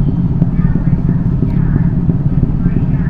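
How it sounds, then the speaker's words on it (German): A Honda CB500F motorcycle engine running close by, a steady throbbing mid-pitched rumble with a fast pulsing beat, loud and continuous throughout. "Äh, eine Honda CB500F."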